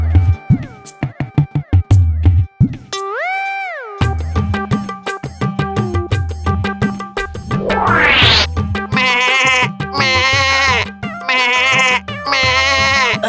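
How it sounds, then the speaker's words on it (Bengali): A goat in a Bengali fairy-tale cartoon gives loud, wavering bleats that repeat several times over music and sound effects. "আরে, ওই তো আমার ছাগলটা ডাকছে।"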